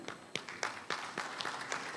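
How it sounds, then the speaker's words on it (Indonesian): An audience at an official opening ceremony claps in scattered, uneven bursts, moderately close, with no voices over it. "tepuk tangan buat BPKAD"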